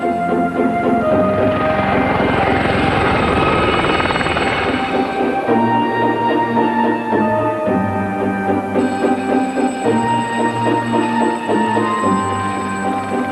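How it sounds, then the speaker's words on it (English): A Gazelle helicopter roars close by with a heavy rotor thrum and whining turbine, loud and steady throughout, shifting in pitch as it moves. "learning to fly the helicopters"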